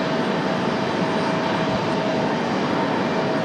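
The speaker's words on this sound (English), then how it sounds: "Got another Airbus" Airbus airliner at Raleigh-Durham airport, a steady broad jet engine roar filling the whole moment, loud and continuous with no voices.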